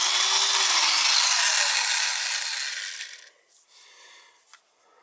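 A small 110-volt handheld electric nibbler chews through sheet metal during a gas furnace changeout, a loud, steady buzzing rasp for about three seconds that stops abruptly, leaving faint clicks and handling noise.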